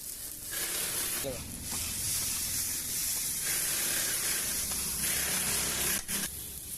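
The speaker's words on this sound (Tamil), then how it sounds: "மாங்காய் வந்து நல்லா ஃப்ரை ஆகிட்டுருக்கு" Continuous hissing sizzle of food frying in a pan, fairly close, with faint voices murmuring underneath.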